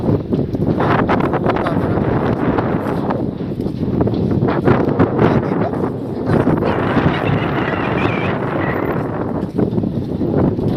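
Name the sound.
wind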